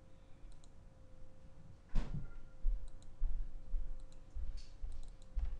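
A computer mouse button gives one sharp, close click, followed by a few faint, scattered ticks over low room hum.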